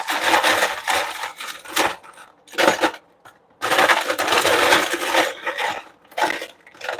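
Rattling, clattering bursts of big ice cubes dropping into a cup, tumbling and knocking together in several noisy waves with brief pauses between.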